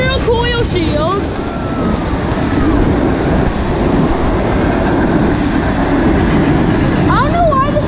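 A CSX freight train with SD40-2 locomotives rolls past up close, a loud, steady roar of wheels and cars with screeching flange squeals, mostly drowning out a voice heard faintly at times.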